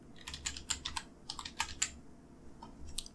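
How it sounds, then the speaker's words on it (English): Several quick bursts of keystrokes on a computer keyboard, clustered into short runs with brief pauses, close and moderately quiet with no talking. "Press enter on my keyboard."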